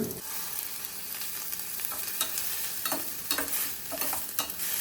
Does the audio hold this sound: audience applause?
no